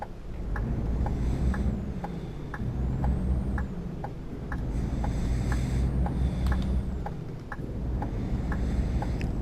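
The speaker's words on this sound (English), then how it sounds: "You're just gonna go really slow in your big, ugly, yellow French truck." A big yellow French truck rolls slowly nearby with a steady low engine drone and road rumble, while a regular ticking, like an indicator, clicks along throughout.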